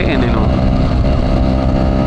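A motorcycle engine with an exhaust leak underneath runs loudly with a steady rumble while someone speaks over it.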